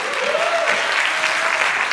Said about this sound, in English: A round of applause for Julia, please.